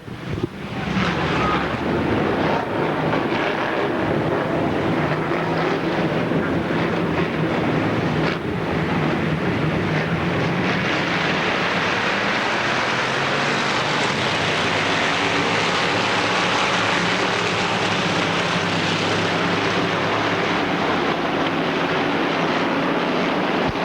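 Race cars roaring around Pennsylvania Motor Speedway near Pittsburgh during a regular show race, a dense continuous loud engine rumble heard from the stands, buffeted by wind noise.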